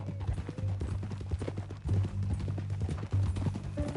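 Rapid horse hooves clip-clop in an even, trotting rhythm over a low steady hum in the video game Red Dead Redemption 2, close and moderately loud.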